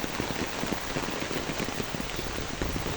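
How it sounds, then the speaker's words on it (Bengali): Heavy rain pours down steadily, a dense hiss of drops drumming on surfaces nearby, unbroken and fairly loud with no one speaking. "দেখছেন কত বৃষ্টি হইতেছে কত জোরে"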